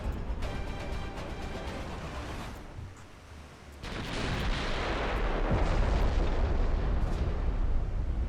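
Battleship broadside artillery fire in a naval combat video game: a dense, continuous roar of heavy cannon blasts that dips briefly midway, then swells louder and sustained, with no talking.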